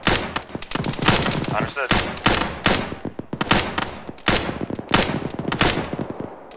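Bursts of rapid gunfire in Arma 3 crackle in quick volleys with brief gaps between, loud and close, while a voice speaks briefly in between.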